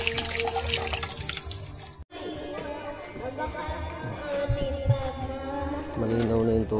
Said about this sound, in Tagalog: Malinaw na yung tubig na nilabas.